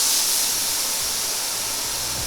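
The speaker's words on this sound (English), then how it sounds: "Onto the ripping hot skillet goes a healthy dose of grapeseed oil and carefully dropping in the tenderloin" Beef tenderloin sears in a healthy dose of grapeseed oil on a ripping hot skillet, a loud, steady, close sizzle and hiss that runs throughout with no talk.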